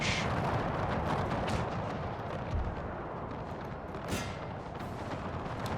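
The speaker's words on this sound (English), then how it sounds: "The howitzer shots landing around there" Howitzer shells from a Franco-Prussian War 1870 strategy game land and burst in dull, distant booms over a constant battle rumble, with a couple of slightly stronger thuds standing out.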